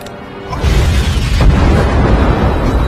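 A sound bomb detonates in an action film scene, a loud deep boom that swells after a quiet start and rumbles on with sustained low roar, no voices.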